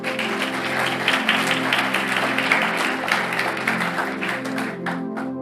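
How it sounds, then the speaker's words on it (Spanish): A church congregation claps during a Spanish-language sermon, a steady broadband burst of applause lasting several seconds over sustained music tones, fairly loud and continuous before tapering at the end. "Dale un aplauso a Él."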